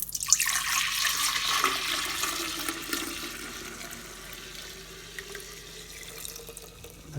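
Fermented kombucha tea pours from the spigot of a jar in a steady, splashing stream, loud at first and easing slightly as it runs.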